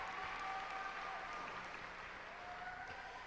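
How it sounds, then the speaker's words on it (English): Sustained applause from a large pageant audience for the stage crew, a dense, steady wash of clapping heard from a distance, fairly faint throughout. "Give them all a round of applause"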